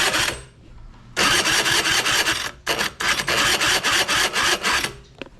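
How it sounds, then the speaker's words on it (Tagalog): Electric starter motor cranking a Honda Dio 50cc AF27 two-stroke scooter engine, sounding as loud, close bursts of steady whirring, one long spin, a short pause, then two more cranking runs, with no voice over it. "Lakas pa ng starter."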